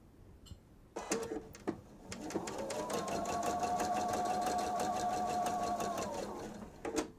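A sewing machine stitches fabric for a bench pillow, starting with a few short bursts, then running in a steady whirring hum with rapid needle ticks for several seconds before stopping, quiet and close.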